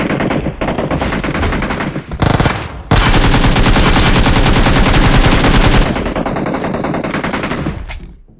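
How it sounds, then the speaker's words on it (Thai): Sustained machine gun fire rattles at a titan in a video game as loud, rapid automatic bursts with brief pauses between them. "ยิงใครยิงไททันเหรอ"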